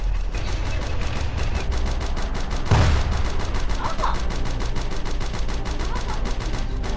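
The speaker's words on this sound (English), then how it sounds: "I fire what? Cannon or machine gun?" Continuous rapid machine-gun fire from a tank in the Roblox game Tank Simulator, broken by a single heavy tank cannon boom partway through.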